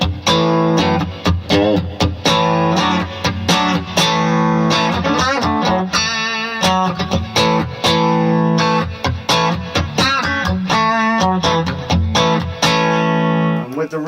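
An electric guitar plays through a BluGuitar AMP1 set to a Vox AC30-style British voice at low gain, with mid and bass boosted. The chords and single notes ring out continuously, close and loud, with a slight edge of breakup.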